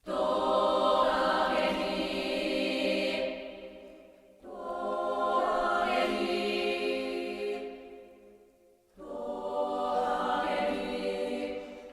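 Three sustained choral phrases sung on vowel syllables, each swelling and fading, separated by short pauses, with rich layered voices.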